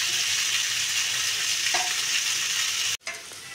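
Pieces of chicken for chilli chicken fry in a pan with a loud, steady, close sizzle and stirring, then break off abruptly near the end.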